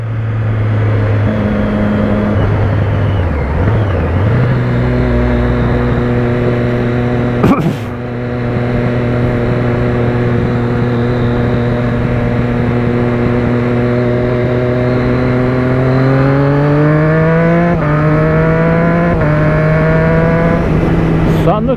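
A motorcycle engine revs on the throttle up close, loud and sustained, its pitch climbing and falling through several long pulls with a brief dip midway, while a person talks over it.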